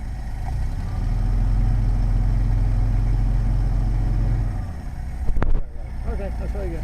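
A 1969 International Scout engine runs at a steady, low idle rumble for several seconds, then cuts out. A sharp knock follows, and a quieter background remains.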